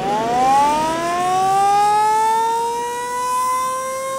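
A smooth electronic-sounding siren in a 1971 film rises and holds its pitch, loud and alone, with a clean synthetic tone and gentle swells in volume.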